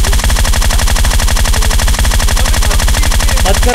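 Rapid automatic gunfire in the PUBG Lite battle-royale game on PC, a loud, steady stream of shots running without pause for the whole stretch.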